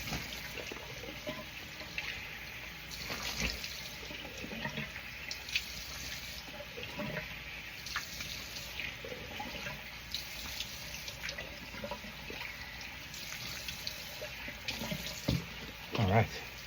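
Tap water running into a bathroom sink while a man rinses shaving soap off his face after a shave, a steady close splashing hiss with a few louder splashes near the end.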